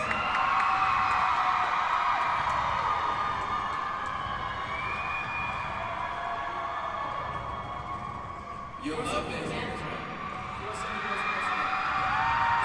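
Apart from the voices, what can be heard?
crowd cheering for Team Bagheera Jones at TwitchCon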